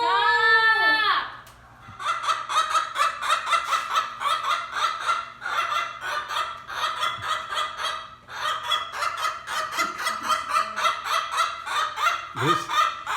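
An angry chicken in a woodworking shop squawks and clucks in rapid, repeated bursts almost without pause, loud and close, with a short high shriek at the start and faint low hum beneath.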